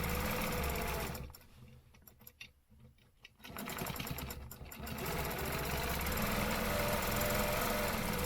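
Sewing machine stitching steadily with a loud continuous mechanical whir that drops away briefly in the middle, then resumes at full, even speed.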